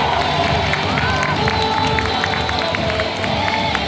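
A baseball stadium crowd cheers and applauds during a cleaning-time break welcoming new rookie players, a dense, steady roar of many voices with scattered whoops and clapping filling the whole stretch.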